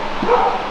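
Dogs bark at a home garage during a car lift installation, one short yelp or bark rising out of steady background noise at moderate level.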